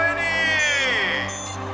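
Cartoon race cars revving at the race start, a loud rising and falling engine whine with sliding tones, heard up close.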